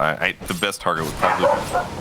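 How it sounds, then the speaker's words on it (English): A dog barks several times in quick, sharp yips at close range. A commentator talks over the barking during an esports match broadcast. "Sorry about the barking."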